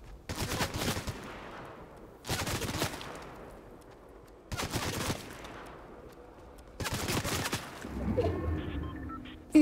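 Four separate bursts of automatic gunfire ring out during a Fortnite No-Build match in the woods, each volley loud and echoing before fading, with a muffled rumble at the end.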